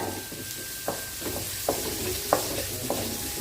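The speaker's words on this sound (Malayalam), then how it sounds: "സവാള അരിഞ്ഞത് പച്ചമുളകും കൂടെ ഇട്ട് കൊടുത്തിട്ടുണ്ട് ഇത് നന്നായിട്ടൊന്ന് ഇളക്കാം" Chopped onion and green chilli fry in a pan while a spoon stirs them, giving a steady sizzle with four or five distinct scraping strokes spaced out over a few seconds.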